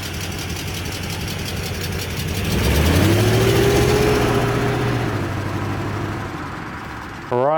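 A BMW E31 840Ci V8 coupe hums steadily on the move, its engine note rising and swelling as it pulls, then easing back to a settled drone, loud and close with a sudden bump at the end.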